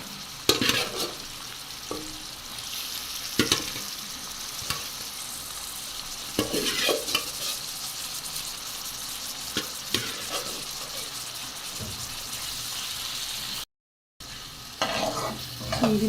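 Marinated prawns fry in hot oil, giving a steady sizzle throughout with occasional stirring clatter, close and moderately loud, with no talking.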